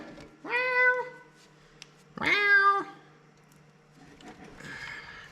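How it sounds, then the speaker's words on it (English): A cat in a garage gives two loud, drawn-out meows about two seconds apart, followed by softer scuffling and a fainter vocal sound, with a low steady hum underneath. "Hey, kitty cat."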